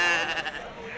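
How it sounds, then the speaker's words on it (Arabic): A sheep bleats at the Tuesday livestock market in Azrou, Morocco, one wavering cry that fills the whole second and stands out over a busy background of voices. "خروفة موجودة، خروف موجود"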